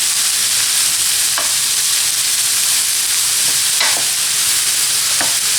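Sliced leek and fresh sliced mushrooms sauté in a pan, a loud continuous sizzle with occasional soft scrapes of stirring.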